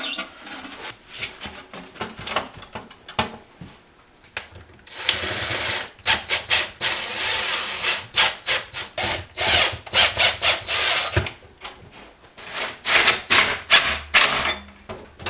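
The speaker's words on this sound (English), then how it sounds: "Slide on my next hose clamp" A hose clamp is slid onto metal dust-collection ducting, giving repeated scraping and rubbing strokes of metal on metal. The strokes come in uneven rhythmic bursts, close and fairly loud, with brief gaps between them.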